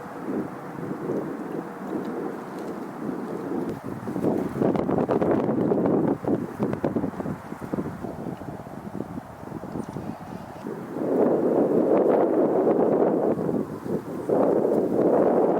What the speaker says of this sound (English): the wind did pick up, and pretty quickly.